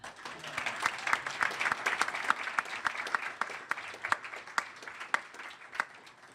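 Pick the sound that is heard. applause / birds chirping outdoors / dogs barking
applause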